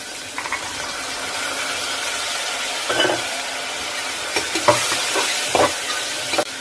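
Cowpeas, tomato, garlic and onion sauté in a pan with a steady sizzle, while a spoon stirs and scrapes against the metal in scattered clinks and clatters nearby.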